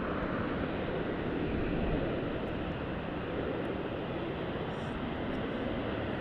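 An MD-11 or DC-10 jet landing at Dallas/Fort Worth International Airport, a broad steady engine roar that swells slightly and holds, heard from a distance without talk.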